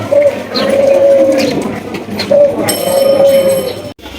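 Domestic pigeons at a fancy pigeon farm, including Spanish breeds, give repeated soft cooing calls in two clear bouts over a steady, rustling background, with no talking.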